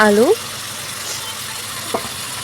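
Spices and potatoes sizzle steadily in a hot pan, a constant hiss after a brief voice at the start.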